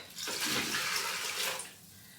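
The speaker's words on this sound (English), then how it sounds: "I'm going to add in the rest of my stock." Chicken stock pours into an Instant Pot Pro Crisp for a beetroot risotto, a steady close splashing rush of liquid lasting under two seconds before tapering off.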